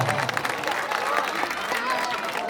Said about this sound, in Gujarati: જોગેવાલા એમને તાળીઓથી વધાવી દેજો બધાને નમ્ર વિનંતી છે તાળીનો અવાજ આવવો પડે